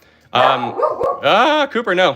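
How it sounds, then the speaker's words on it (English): A dog barks and yips at something outside, loud and close, in sharp bursts mixed in with a person talking. "I apologize for the barking dogs right now."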